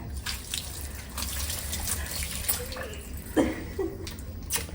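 Water pours and splashes in short bursts while a toddler is bathed, fairly faint and close, with brief soft sounds and small splashes between pours.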